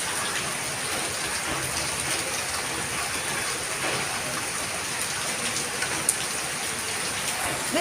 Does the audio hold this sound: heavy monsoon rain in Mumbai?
yes